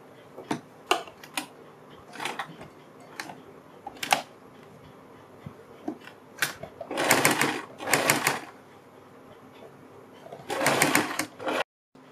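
A sewing machine stitches a strip onto the neck of a kurti, firing off short bursts of rapid clatter with brief pauses and longer runs, close and fairly loud, with no one speaking.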